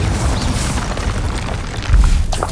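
A Confringo spell blast in Hogwarts Legacy gives a loud, sustained rumbling boom, with a heavier low-end surge of the explosion near the end, dense and close.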